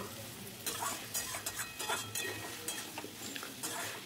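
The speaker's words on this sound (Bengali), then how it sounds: "দিয়ে এবার ভালো করে কষাবো, আরও খানিকক্ষণ কষাবো।" Spiced masala for a paneer, cauliflower and potato curry is stirred and sautéed in a pan, with a steady sizzle of frying broken by repeated scraping strokes of a spoon against the pan, close up and without talk.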